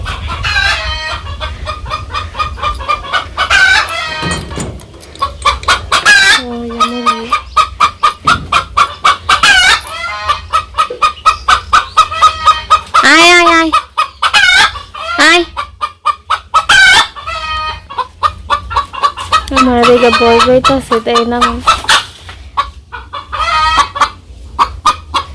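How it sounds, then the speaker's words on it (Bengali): Hens cluck loudly and repeatedly close by in a village kitchen shed where they lay eggs, with a rooster crowing in between and a brief bit of speech. "আমাকে পাক ঘরে মুরগি ডাকাডাকি পড়তেছে"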